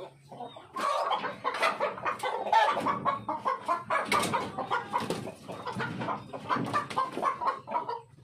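A Black Australorp hen clucks repeatedly up close, a busy run of short throaty clucks and squawks with little pause.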